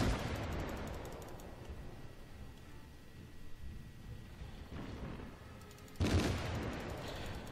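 Warship guns fire in World of Warships, heavy booming blasts rolling out at the start and again sharply near the end, with distant rumbling reverberation between.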